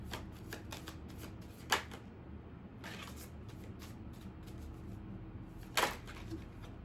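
Tarot cards shuffled by hand in a quiet room, with soft riffling bursts and two sharper card riffles, close and fairly faint, with no one speaking.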